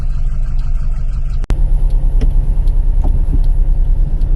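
A Porsche 914/4 with a dogleg five-speed gearbox drives along, a loud, steady low engine and road rumble heard from inside the car, with one sharp knock partway through and no talk.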